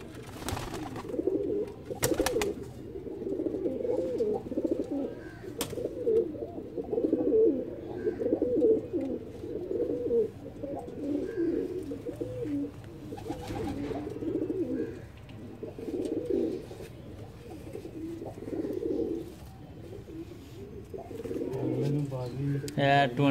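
A Sialkoti pigeon coos in steady, repeated low rolling phrases at close range, with someone talking intermittently over the cooing.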